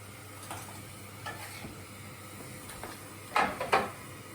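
Homemade cavate pasta pieces dropped into hot olive oil, giving a soft continuous sizzle with light stirring clatter and a few sharper bursts of frying near the end.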